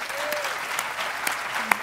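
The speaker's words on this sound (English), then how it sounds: "So you can applaud that if you want to." Audience applause at a Moth storytelling event at the Edinburgh International Book Festival, a sustained crowd clapping with scattered sharper claps and brief vocal sounds over it.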